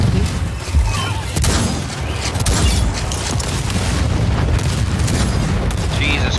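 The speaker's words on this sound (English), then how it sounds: "that explosion killed them." Explosions and bursts of gunfire in the sci-fi dinosaur shooter game Second Extinction, a loud, continuous barrage of booms lasting throughout.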